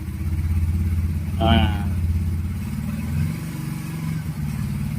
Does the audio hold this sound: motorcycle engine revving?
yes